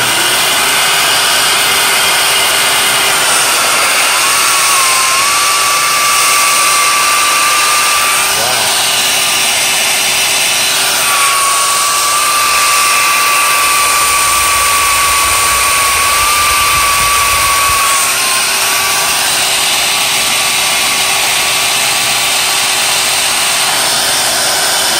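A Shop-Vac 5 gallon 2 peak HP vacuum runs from its blower side with a loud, steady, close-up roar and a high whining tone, unbroken throughout and with no talking.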